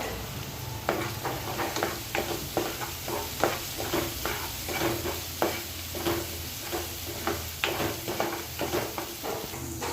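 Frying in a pan with salt and turmeric, a steady sizzle with a regular rhythm of scraping stirring strokes, close and even throughout.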